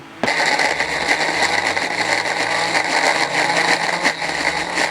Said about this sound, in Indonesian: Kita masukin minyak cukupnya. Kita mau blender.